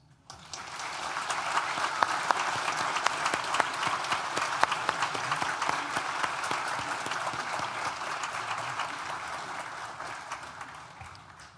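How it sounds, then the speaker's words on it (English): A large audience applauds steadily at a university graduation ceremony for the School of Art and Design, a dense wash of clapping swelling quickly and holding strong for about ten seconds before tapering off. "Please join me in thanking them with a well-deserved round of applause."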